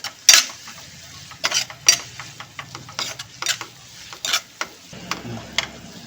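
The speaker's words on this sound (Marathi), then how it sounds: "ही छान अशी परतून घ्यायची आहे, त्याने छान कलर सुटतो." Spices and an onion-tomato masala for prawns being sautéed in a pan, with a steady soft sizzle and a series of sharp spoon scrapes and stirring clinks, close and without talk.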